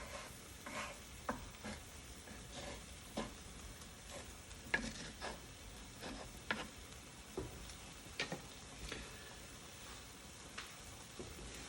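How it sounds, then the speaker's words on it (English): Soft, steady sizzling of meat frying in a pan, with occasional clicks and scrapes of a utensil stirring, quiet and close. "I can hear this meat sizzling"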